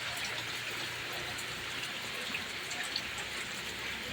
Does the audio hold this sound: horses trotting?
no